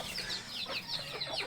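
Turkey and other farm poultry clucking close by, a quick run of overlapping high chirps and clucks with no talking.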